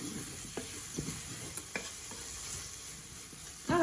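Jackfruit stirred in a pan while it simmers, with soft scraping strokes of a utensil over a steady low sizzle, close and quiet with no talking.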